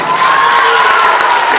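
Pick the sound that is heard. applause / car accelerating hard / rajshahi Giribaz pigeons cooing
applause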